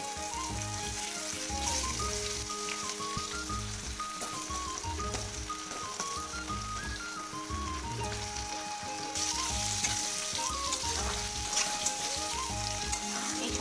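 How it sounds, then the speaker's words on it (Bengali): Potatoes frying in a small amount of oil in a pan, a steady close sizzle with occasional stirring scrapes over soft background music, no voices. "এইভাবে আলুটাকে লাল করে ভেজে দিতে হবে।"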